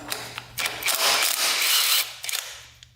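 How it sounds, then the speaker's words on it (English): A ratchet wrench clicks steadily while loosening a bolt on the rear sprocket of a Honda 500 motorcycle, close and clear mechanical ratcheting in bursts with no talking. "we're gonna have to take off 1 bolt at a time"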